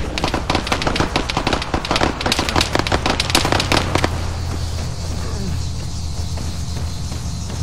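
Rapid automatic gunfire in a multiplayer military shooter game, dense bursts of shots and cracks for about four seconds, then fading to quieter background game noise.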